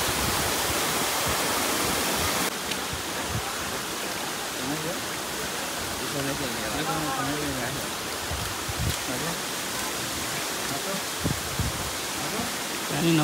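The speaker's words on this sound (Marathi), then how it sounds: "असे आता धबधबे वाहताना वरती बघा किती दिसते." Waterfalls pouring down the hillside at Karla fort near the Ekvira Devi temple, a loud continuous broadband rush of falling water; faint voices and footsteps sit underneath.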